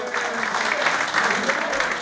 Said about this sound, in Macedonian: еден аплауз за Джеро